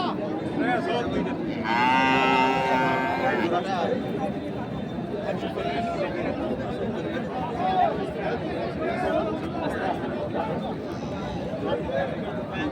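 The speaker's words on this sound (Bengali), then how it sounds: "খামার উপযোগী যে সার গরুগুলো রয়েছে সেই গরুগুলোর তথ্য আমরা আপনাদের একটু দেই" Haryana breed cattle at a busy Indian cattle market before Eid al-Adha, with one loud, drawn-out moo near the start amid constant crowd chatter and market noise.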